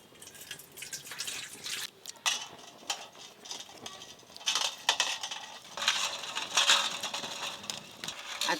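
Eggs being washed by hand in water, with irregular splashing, dripping and light clinks of shells against a bowl, close and moderately quiet, with no talk.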